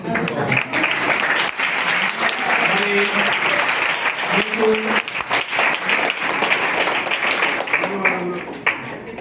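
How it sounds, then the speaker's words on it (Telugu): An audience claps loudly and continuously at a retirement felicitation ceremony, with children present. The dense applause holds for several seconds while a voice speaks intermittently over it. "కాస్త క్లాప్స్ కూడా కొడుతున్నారు"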